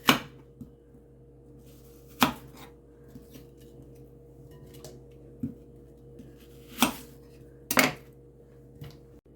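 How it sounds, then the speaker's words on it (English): A knife chops an apple into pieces, giving about half a dozen sharp, irregular knocks against a quiet background. "I got the apple chopped now"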